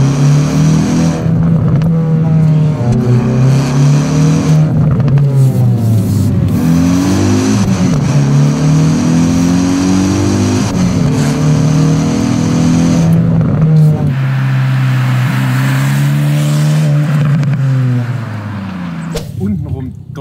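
A Hyundai i20 N or VW Polo GTI with a DSG gearbox revs hard through the gears, the engine note climbing and dropping at each shift in a loud, steady run, with people talking over it inside the car.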